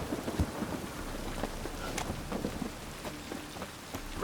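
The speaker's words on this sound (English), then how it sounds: "Rain again." Steady rain with rolling thunder in The Witcher 3: Wild Hunt, a continuous close wash of rainfall broken by sharp cracks and low rumbles, with no voices.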